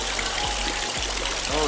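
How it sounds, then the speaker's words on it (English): A small fountain beside a mosque in Sarajevo trickles and drips water down into pipes, giving a steady close splashing wash with faint burbles, while a voice speaks quietly in the background. "it's a little fountain, and then it will actually go and drip down into these pipes"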